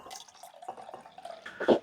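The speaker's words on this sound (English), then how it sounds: "cup of water," A cup of water poured into a pickling brine for red onions, with short splashing and dripping bursts ending in a louder gush near the end.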